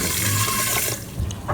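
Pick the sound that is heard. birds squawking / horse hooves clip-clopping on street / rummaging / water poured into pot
water poured into pot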